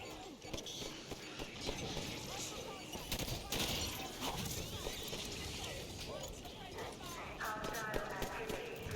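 Rapid gunfire and explosions in the Halo video game, dense and continuous through the whole stretch, with players talking over the shooting.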